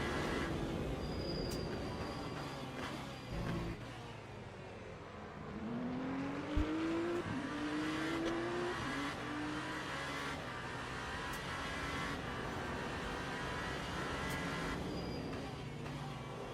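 A Lamborghini race car at a WEC endurance race sweeps past, its engine note rising and falling as it goes by amid steady track noise, with people talking nearby.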